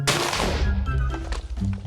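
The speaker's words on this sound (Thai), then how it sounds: "ระเบิดปุ๊บนี่ดินนี่กระเด็นไปคนละทิศคนละทางเลยนะ" A Mega TNT Tier 1 explosion from a Minecraft TNT mod detonates with a loud, broad blast at the start, then settles into a rumbling, crackling tail of scattered debris.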